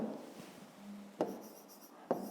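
Numbers are written by hand with a pen or pencil, heard as faint, close scratching strokes with a couple of sharper taps.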